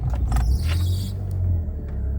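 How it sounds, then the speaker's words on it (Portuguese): A Chery Face car engine starts up with a brief cranking burst, then settles into a steady low idle rumble heard close up with no talking. "vamos ligar o carro aqui agora."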